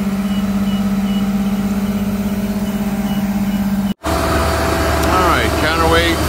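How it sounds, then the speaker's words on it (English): A crane lifting counterweights off a truck, a diesel engine droning steadily with a steady tonal hum, a brief cut, then continued engine rumble with faint squeaky tones, someone talking over it. "we're about to pick up the counterweights off of the other truck"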